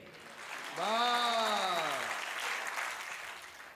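Crowd at a comic poetry show claps in a steady wash while a voice calls out loudly over it for about a second, then the applause continues at moderate level.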